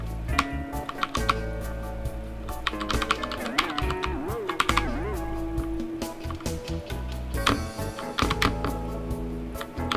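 Computer keyboard keys are pressed in quick irregular clusters of clicks alongside sustained piano-like tones, played on the keyboard as a makeshift piano.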